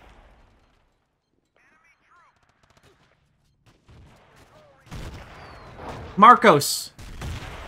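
Artillery fire in a Battlefield 2 Conquest match lands as a few loud, sharp booming blasts near the end after a mostly quiet stretch, with a commentator's voice talking over them.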